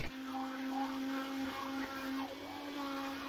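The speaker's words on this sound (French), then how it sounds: "je vais mixer ma soupe." A blender purées squash soup with a steady, loud motor whine whose pitch dips and rises as the blades meet the thick mixture, running continuously with no talk.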